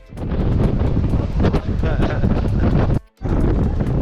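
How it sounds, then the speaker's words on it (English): Strong Patagonian wind in Torres del Paine National Park, Chile, buffets the microphone in loud, continuous roaring gusts, with a brief drop near the end before the rush returns. "Today's not that windy, and it's freaking windy, okay?"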